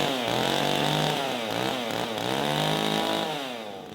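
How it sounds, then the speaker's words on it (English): A big chainsaw with a long bar, a Stihl 500i or custom 660, bogs and revs as it bites into thick wood, its loud, steady engine roar rising and falling through the cut. "you need to put that saw into big wood with a big bar"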